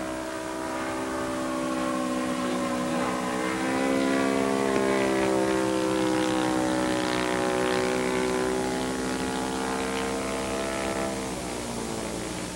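An Extra aerobatic plane's propeller engine drones steadily through a slow roll, its tone gliding as the throttle is eased back, heard continuously without speech.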